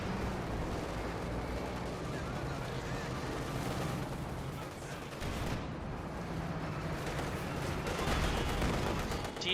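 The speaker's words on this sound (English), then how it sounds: "T-35 they're firing away" Gunfire and explosions from a T-35 tank and other units in a Company of Heroes 2 match rumble steadily, with dense, overlapping bursts and booms beneath faint talk.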